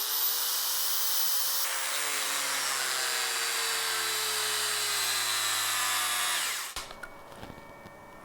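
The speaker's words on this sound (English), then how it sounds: "120 volt, 6 amp grinder." A 120-volt, 6-amp grinder runs at a steady high whine for several seconds, then its pitch drops as it cuts out and spins down, leaving a quiet tail.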